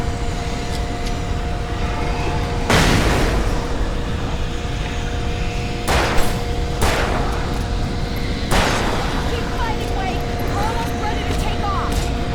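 A flashbang grenade goes off in Alan Wake Remastered, a sharp loud burst followed by a couple of similar bangs, set against steady game ambience and a low mechanical hum.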